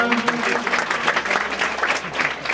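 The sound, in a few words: students applauding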